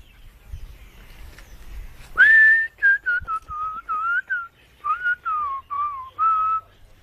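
A person whistles a tune in a backyard: a sharp rising opening note, then a run of short, separated melodic phrases with clear pitch glides, loud and close with a little faint background noise.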